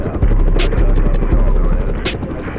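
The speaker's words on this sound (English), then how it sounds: "he hops on his very own private helicopter and flies it himself." A private helicopter flying, its rotor giving a loud, continuous low thrum with a rapid rhythmic chop and brief brighter whooshes, heard close and alone.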